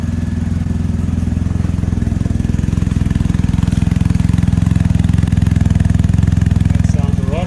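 A BMW R1250GS Adventure motorcycle fitted with an Akrapovic slip-on exhaust idles steadily with a deep, even, pulsing thrum, loud and close for the whole stretch.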